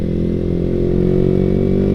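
A Yamaha R15 V3 motorcycle fitted with a Ronin Hanzo NextGen racing exhaust, valves fully open in racing mode, idles close up with a dense, steady, throbbing low rumble and no voices.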